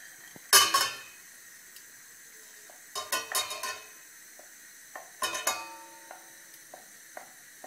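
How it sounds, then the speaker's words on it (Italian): Vegetables and beans heating in oil give soft sizzling bursts from a pot in a few short clusters, with faint clinks and scraping between quieter stretches of low hiss. "Scaldare nella pentola con un po' di olio le verdure e i fagioli passati."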